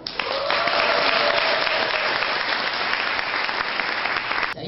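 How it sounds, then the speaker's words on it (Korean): A crowd at a 2018 company year-end party breaks into steady, dense applause after an award plaque is presented, the clapping loud and unbroken for the whole stretch before cutting off. "큰 박수 주세요."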